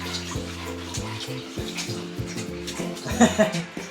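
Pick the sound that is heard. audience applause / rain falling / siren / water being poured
water being poured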